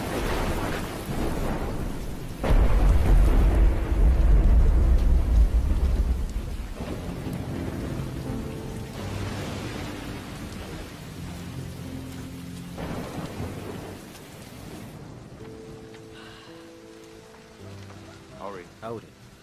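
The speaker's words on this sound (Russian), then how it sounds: "Великий дождь." Heavy rain pours steadily while thunder rumbles loudly, with a few tonal voice-like sounds drifting through the downpour.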